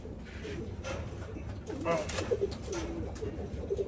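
A racing pigeon hen coos softly at a loft during breeding season, with a few low throaty coos heard faintly amid background noise.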